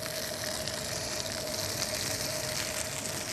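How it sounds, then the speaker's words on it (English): Tomatoes frying in plenty of olive oil in a hot pan, a steady dense sizzle with crackling bubbles, close and continuous with no talking. "We start to fry them down in plenty of olive oil"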